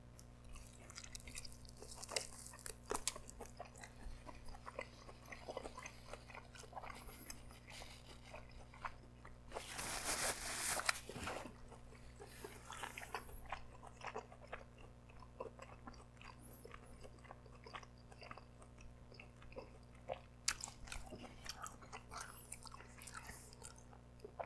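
Quiet, close chewing of a bite of lamb chop topped with mint jelly, with soft wet crunches and squishes repeating steadily over a long stretch and no talking.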